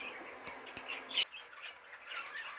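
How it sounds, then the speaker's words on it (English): Two breeding birds in a cage give a few sharp, separate chirps close by, with soft twittering and light rustling between the calls. "the 2 birds are now in the breeding cage"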